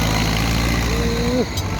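A Ford 6600 tractor engine revving while working with a three-disc plough: a loud, close, steady low drone with a rising tonal whine that drops sharply near the end, no talk.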